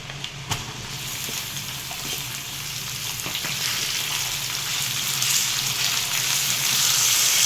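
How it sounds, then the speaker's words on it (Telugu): Chicken keema dropped into a pan of browned onions sizzles and fries steadily, a close, continuous hiss with a few sharp crackles and pops near the start, growing slightly louder toward the end. "ఉల్లిపాయ వేగిందండి. ఇప్పుడు కీమా వేసుకుందాం."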